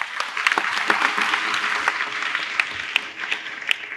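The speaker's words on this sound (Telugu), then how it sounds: "గట్టిగా చప్పట్లు కొట్టండి." Church congregation applauding during a sermon, a dense steady clapping from many hands with sharper individual claps standing out, lasting the full stretch.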